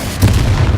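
A Bombarda spell blasts in Hogwarts Legacy, one short booming burst that lands abruptly and rolls into a low, rumbling body for under a second, loud and close with no voices.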